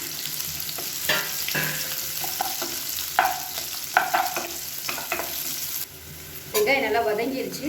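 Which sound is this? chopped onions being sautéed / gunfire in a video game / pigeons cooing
chopped onions being sautéed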